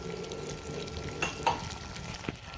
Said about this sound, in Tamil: இந்த எல்லா கலவையோடையும் ஒருக்க நல்லா மிக்ஸ் பண்ணி விடுங்க